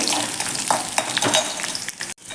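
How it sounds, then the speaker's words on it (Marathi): Peanuts frying in oil for a fasting-day potato dish, a steady close sizzle with a few scraping stirs, cutting out briefly near the end. "जे शेंगादाणे आहेत ते घालून घ्यायचे ते देखील तळून घ्यायचे"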